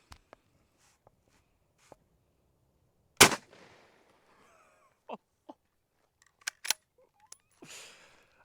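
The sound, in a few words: gunshot from a 6.5 rifle fired into meat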